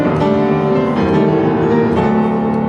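A piano plays a short passage in a dislocated dotted rhythm, with the bass note left unplayed and only implied. Sustained chords ring loud and close, with no speech over them.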